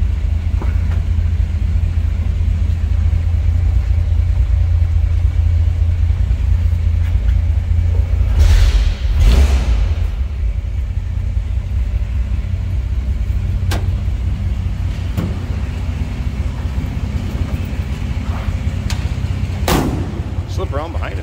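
A 1945 Chevrolet AK truck's inline six-cylinder engine cranks and catches, then runs with a steady low rumble, with a few sharp clunks and knocks along the way.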